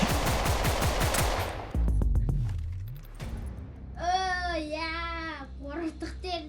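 Bursts of rapid automatic gunfire from a gun in a video game, loud and dense at first, then single shots, followed by a voice talking.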